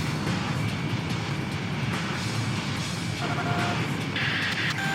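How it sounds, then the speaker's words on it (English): Enemy bomber aircraft approach in the video game Ace Combat 6, a steady, loud roar of jet engines that rumbles throughout and holds at the same level, with no voices. "Enemy bombers are approaching the city."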